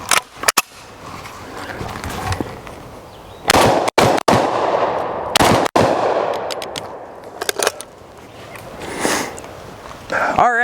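A Garaysar Fear 125 shotgun firing double-aught buckshot on a test range, several loud, sharp blasts spaced irregularly with ringing decay between shots.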